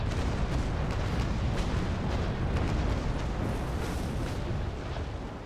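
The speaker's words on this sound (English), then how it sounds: "maybe even just a straight up broadside" Cannon broadside from a frigate in the naval combat game Naval Action: a dense, continuous rumble of overlapping heavy booms, loud and sustained throughout, tapering slightly at the end with no talk.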